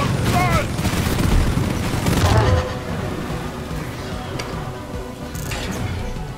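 Incendiary grenade going off in the mining shooter Deep Rock Galactic, a dense burst of booms and crackling blasts mixed with rapid gunfire, loud and sustained and then easing into a rougher rumble, with voices calling out over the chaos.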